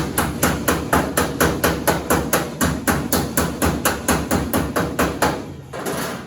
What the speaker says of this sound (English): Get the flat hammer, the yellow handled one, and just pound those down.